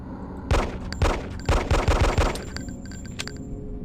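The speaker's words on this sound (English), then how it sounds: "Now for some target and reloading practice. Step over to the shooting range." Gunfire from a weapon on the shooting range in the Hitman video game: a single loud shot, another, then a rapid cluster of five or so close shots, fading into a quieter room tone with faint clicks.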